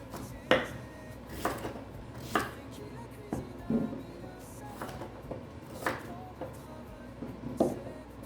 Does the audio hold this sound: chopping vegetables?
yes